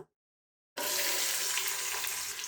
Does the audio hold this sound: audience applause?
no